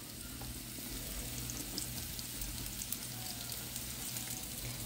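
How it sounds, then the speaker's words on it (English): Onions and pepper sautéing in a pan, a constant quiet sizzle and crackle at an even level throughout, with no voices. "So I'll let it saute up there a little bit."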